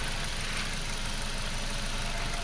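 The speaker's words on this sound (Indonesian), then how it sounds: "Mesinnya masih nyaris tidak terdengar suaranya." A Suzuki Jimny's engine idles steadily and quietly close by, a smooth continuous running sound with no revving or talk over it.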